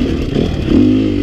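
A four-stroke dirt bike engine revs loud and close, a rough throaty roar that rises and holds a steadier higher pitch partway through, with no talking over it.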